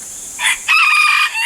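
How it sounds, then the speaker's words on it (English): A homestead chicken gives a brief, loud, close crowing call in two bursts, without any talk over it. "the chickens are following me"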